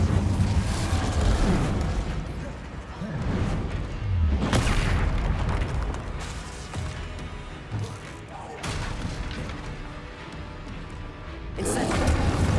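Spell explosions from Confringo and Incendio in the Hogwarts Legacy video game, deep booming blasts and crackling bursts that recur through a dense, loud combat soundscape, with a voice calling out amid the action.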